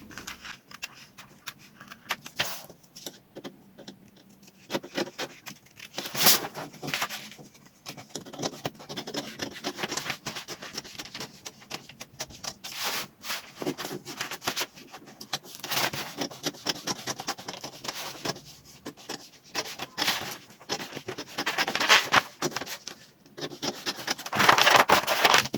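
Scissors snipping and rubbing through fabric while cutting out a shirt gown pattern on a work table, steady irregular cutting strokes and rustling close to the microphone, louder toward the end, with no talk.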